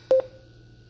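A Zoweetek portable Bluetooth speaker gives a short, clear two-part connection tone as a phone pairs, loud and alone over faint background hum.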